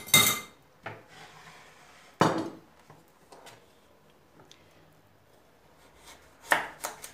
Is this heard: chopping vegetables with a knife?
yes